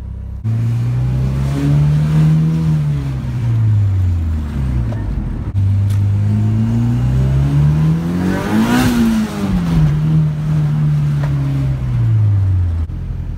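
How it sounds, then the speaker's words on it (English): Steady car engine drone while driving with a blown turbo, the pitch rising and falling as it revs through gears, loud and close with road noise underneath. "I'm gonna drive for like about 5-10 minutes"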